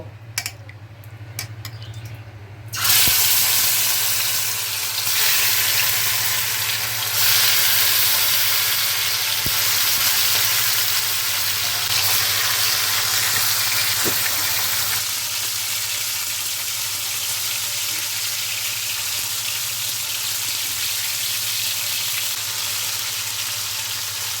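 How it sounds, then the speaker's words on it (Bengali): Lote (Bombay duck) fish pieces coated in rice flour, turmeric, ginger and garlic paste frying in mustard oil, a loud steady sizzle that starts after a quiet opening and holds for the rest of the clip. "চালের গুঁড়ি দিয়ে হলুদও দিয়েছি সর্ষের তেল দিয়েছি এখন এটা আমি ভেজে নেব"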